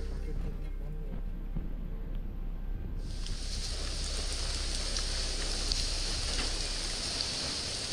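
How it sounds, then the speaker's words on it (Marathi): Heavy monsoon rain pours at a Mahadev temple in the Tamhini Ghat hills, a steady dense hiss that brightens and thickens partway through into a loud, continuous downpour. "पाऊस एवढा पडतोय ना"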